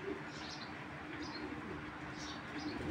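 A pigeon coos softly a few times, faint against a steady background hiss.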